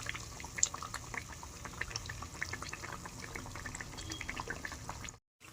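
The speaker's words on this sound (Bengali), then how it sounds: "দেখুন আস্তে আস্তে কিরকম ভাজছি" Pitha frying slowly in oil for a Poush Sankranti sweet, a soft continuous bubbling and crackle of oil, faint and steady throughout before cutting out near the end.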